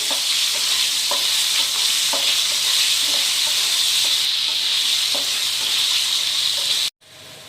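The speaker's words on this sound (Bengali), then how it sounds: "এখন ভালো মতো আলুগুলো একবার ভেজে নেবো আমরা" Potatoes frying in hot oil, a loud, dense, continuous sizzle with occasional clicks from stirring, ending abruptly with a short cut.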